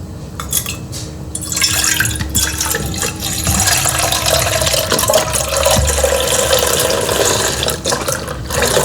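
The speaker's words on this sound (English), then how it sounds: "We're just gonna pour our milk into our container." Milk pours steadily into a container set in a bowl, a continuous splashing fill after a few clinks, close and fairly loud.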